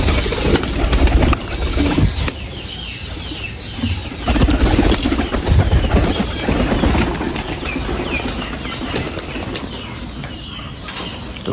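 A flock of pigeons gathers in a loft at feeding time on a mixed grain feed, with bursts of loud, close wing flapping, scuffling and occasional soft cooing.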